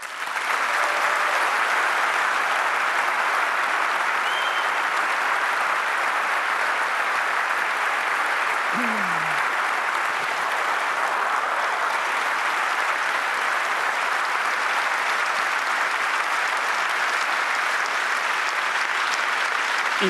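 Loud, unbroken applause from an audience at a political speech fills twenty seconds as a dense steady roar of clapping with no pauses, and no voices stand out above it.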